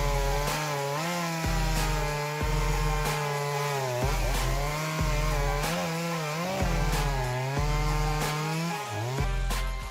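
A Shindaiwa 390SX chainsaw cuts through large poplar trees, its engine droning loud and close in repeated cycles that bog down under load and climb again with each pass, with no talk over it.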